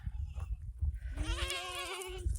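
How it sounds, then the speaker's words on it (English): Goats bleating on a ranch during a goat stampede, a loud, wavering bleat from one nearby goat rising above the rumble and scuffle of movement. "We have a goat stampede."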